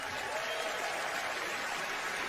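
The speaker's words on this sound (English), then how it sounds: "You clap for that." Faint, distant applause from a small audience greeting a guest introduction on a sports talk show, a steady soft wash of clapping with no voices over it.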